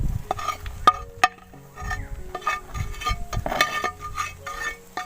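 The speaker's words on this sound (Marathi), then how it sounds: "हां सगळी टाका आणि चांगलीशी 2 हातांनी मिक्स कर." Food ingredients being mixed together by hand, giving soft irregular squishing and rustling with a few sharp clicks, close by and moderately loud, with no talking.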